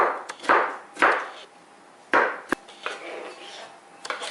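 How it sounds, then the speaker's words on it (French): A knife roughly chopping tomato pulp on a board in a home kitchen, with several sharp, irregular thuds and one bright knock, close by and otherwise quiet. "je vais découper grossièrement la pulpe de la tomate."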